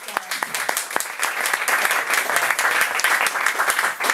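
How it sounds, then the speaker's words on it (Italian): Applause from the audience at a bookshop book presentation, a dense, fairly loud wash of clapping that builds from scattered claps, with a few voices underneath. "Facciamogli un applauso."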